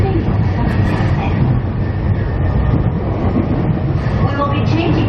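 A Keiyo Line 209 series 500 commuter train runs at speed, giving a loud, steady interior rumble with rolling wheel noise throughout.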